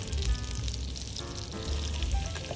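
A tablespoon of butter melting in a saucepan with olive oil over medium heat, giving a close, steady crackling sizzle with small popping bursts.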